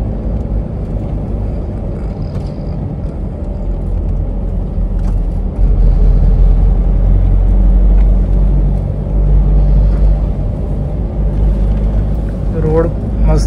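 A Toyota Innova cruises along a smooth highway, its engine and road rumble droning steadily from inside the cabin and growing a little louder midway, with a voice briefly audible near the end.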